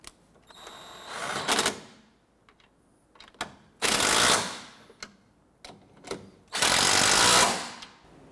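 A ratchet tightens three bolts on a 1992-1996 Toyota Camry 2.2L four-cylinder engine during a timing belt job: three loud bursts of rapid clicking with short pauses between, plus scattered metallic taps.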